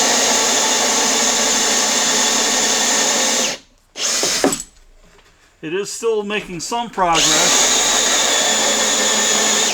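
A power drill running a Milwaukee 2-inch hole saw whirs steadily, then cuts out and stalls as chips clog the cut, with someone talking during the pause before the drill spins up loudly again.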